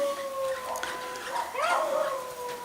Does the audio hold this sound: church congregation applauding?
no